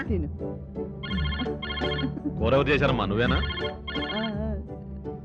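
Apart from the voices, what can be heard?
telephone ringing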